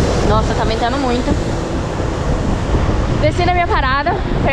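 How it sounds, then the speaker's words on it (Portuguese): Strong wind buffets the microphone with a loud, continuous low rumble on a street with heavy traffic, while a person talks over it in two short stretches. "tá ventando muito"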